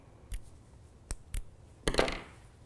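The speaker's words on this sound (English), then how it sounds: "I'm just going to cut that little slit." Scissors snip a small slit into T-shirt yarn, four sharp separate cuts close by, the last longer and rougher, over a quiet background with no speech.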